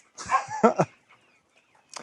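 A short burst of chicken clucking and squawking up close among many chickens in Vietnam, followed by a pause and one brief final cluck.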